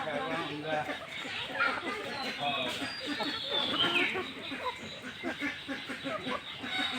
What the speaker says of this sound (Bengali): এগুলো সব দেশি মুরগি